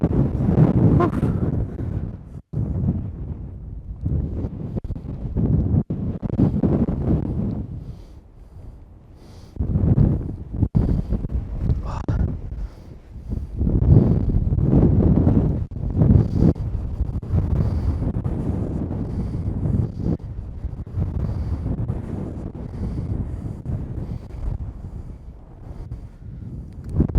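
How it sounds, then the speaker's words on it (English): Strong, cold wind buffets the microphone on an exposed mountain ridge along Maine's Knife Edge. It comes in loud, rough gusts that rise and fall across the whole stretch, with a few breathy exclamations in between. "Oh, it's windy."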